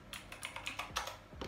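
Typing on a Razer BlackWidow V3 Quartz mechanical keyboard, a close series of crisp clacky keystrokes in an uneven rhythm with no voices.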